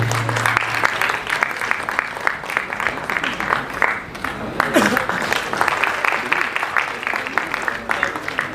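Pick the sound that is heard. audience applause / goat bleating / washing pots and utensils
audience applause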